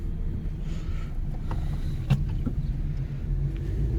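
Steady low road rumble and wind noise from inside a 2019 Honda Civic on the move, with a few faint clicks and thumps over the continuous drone and no talking.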